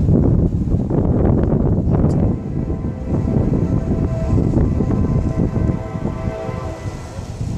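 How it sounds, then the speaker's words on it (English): BNSF ethanol freight train passing close by with a continuous loud rumble and clatter of rolling cars, a brief horn-like tone early on, and another train passing the other way. "Train just came."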